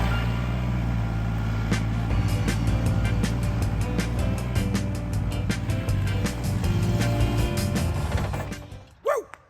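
A Kia car's engine drones steadily while driving, with a low continuous hum under rapid mechanical ticking and clicking, fairly loud and close before cutting away near the end.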